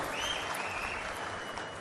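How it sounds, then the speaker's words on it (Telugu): An audience at a Telugu public event addressed by Chief Minister Chandrababu Naidu breaks into applause, a brief, even patter of clapping heard from a distance at low level. "గట్టిగా చప్పట్లు కొట్టి అభినందించండి."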